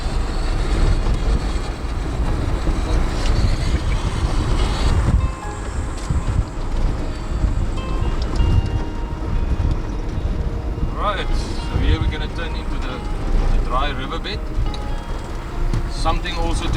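A 2024 Ineos Grenadier rolls over bumps with a steady, loud rumble of road and drivetrain noise, broken by dull thumps and jolts from the suspension and a voice talking over it.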